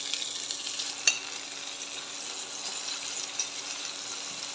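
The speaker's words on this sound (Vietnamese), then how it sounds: "Rồi mình cho cái chuối mình ớt lúc nãy á, vô đây mình áp chảo." Green banana pieces and chili pan-searing in hot oil, a steady soft sizzle with a couple of faint stirring knocks, no voices.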